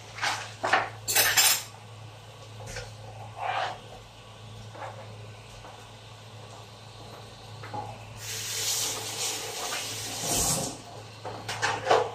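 Metal utensil clinks and scrapes against a pan while large pieces of meat are turned, with sharp clatters early on and a hissing spray of sizzle later, over a low steady hum.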